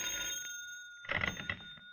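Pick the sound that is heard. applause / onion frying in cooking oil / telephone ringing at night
telephone ringing at night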